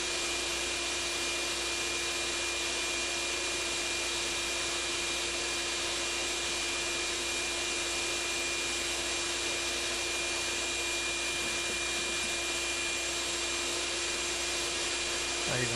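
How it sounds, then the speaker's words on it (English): A steady, unbroken vacuum whine runs at a constant level throughout, with a faint hum underneath and no other sounds breaking through, while vacuuming parts of a GE/AO Smith Shopsmith motor. "I even vacuum off the spring."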